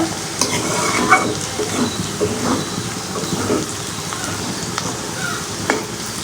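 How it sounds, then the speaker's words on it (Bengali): Onions frying in a pan while being stirred, a continuous close sizzle with scraping stir strokes and occasional soft clinks, heard alone without talk. "পেঁয়াজটা কিন্তু মোটামুটি ভাজা ভাজা হয়ে গেছে"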